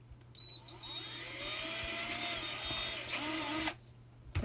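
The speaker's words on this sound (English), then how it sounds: "we're going to pre-drill a hole right here" A power drill pre-drills a hole, whirring up to a steady high-pitched whine that holds for about three seconds and then cuts off abruptly, close and alone without talking.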